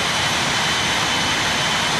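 A jet airplane in a flight simulator game on Android takes off, a loud continuous engine roar that holds steady without any voices.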